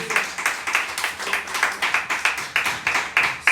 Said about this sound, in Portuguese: aplauda o Senhor com o seu melhor nessa noite